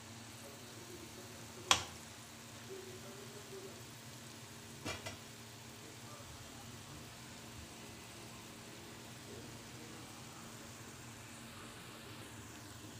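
Pakoda batter frying in hot oil over slow to medium heat, a steady low sizzle running throughout with two brief sharp clicks near the start.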